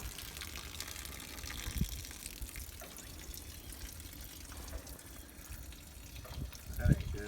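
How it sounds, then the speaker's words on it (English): Water gushes steadily out of a 1960s-era GM PD-4106 coach bus being readied for the road, a continuous low splashing flow with people talking nearby. "That's a lot of water coming out of there."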